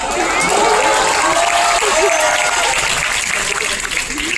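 Audience at a GMCH Chandigarh performance event clapping steadily and densely throughout, with crowd voices and chatter mixed in and a voice rising above the noise.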